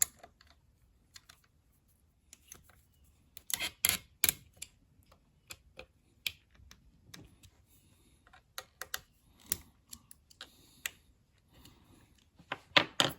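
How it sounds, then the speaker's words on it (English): Small mechanical clicks and ticks from tightening a part while assembling a FOX Alien 4040-XE CNC router, scattered and irregular bursts close by over quiet background. "I'll go ahead and tighten this"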